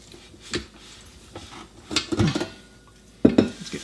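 Dishes, a pot and a spatula from bread making clatter into a kitchen sink in a few separate knocks and clanks, close and fairly loud, with a final louder double clunk.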